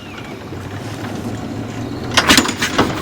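A de Havilland DH.53 Hummingbird engine backfires during a start attempt: a sharp burst of loud pops and cracks after a few seconds of wind rumble.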